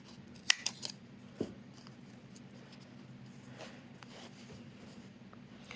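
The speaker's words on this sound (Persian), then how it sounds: "خب الان دوباره این دوتا رو قیچی میکنم" Scissors snip through crochet yarn while a bag is being made: a few quick, sharp, close cuts near the start, then faint handling rustle.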